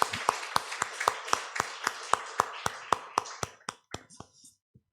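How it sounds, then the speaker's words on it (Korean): Steady rhythmic clapping from a church congregation at a Sunday worship service in Phnom Penh, loud and evenly paced, then slowing and thinning out near the end. "하나님 영광의 박수 올려드리겠습니다."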